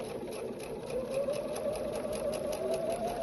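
Sewing machine stitching a quilt star block runs in a steady, continuous whir with a faint mechanical hum, close and unbroken for the whole stretch, with no talking.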